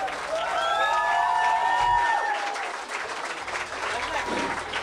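A live audience at a fiftieth-celebration rock concert applauds and cheers the performers on stage, a steady dense wash of clapping with sustained whistle-like tones over it, fading slightly toward the end.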